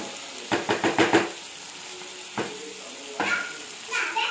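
Vegetables such as tomato, garlic, capsicum and potato sizzle in a pan. A quick run of scraping stirs comes first, then a few single stirs over a steady frying hiss.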